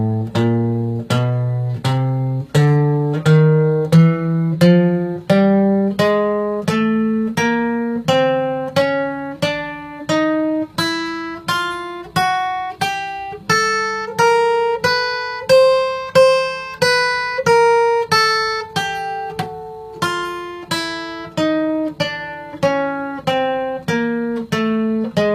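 A guitar plays single notes palm-muted near the bridge with alternate picking, a steady stream of short, clipped plucks that climb and fall in pitch, played alone.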